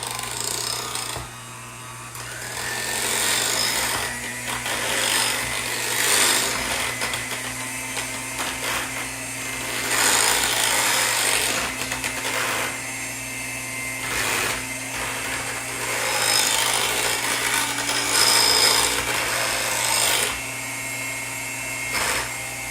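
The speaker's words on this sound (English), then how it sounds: "now we're just going to use the mixer and mix all this" An electric hand mixer whirs steadily through keto cheesecake batter, a continuous close motor drone with slight rises and dips in loudness as the beaters work, with no talking over it.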